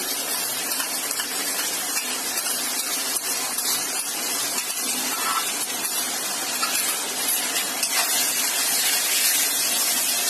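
Ginger garlic paste sizzles steadily in a hot pan, a constant loud hiss and crackle close by, with no voices.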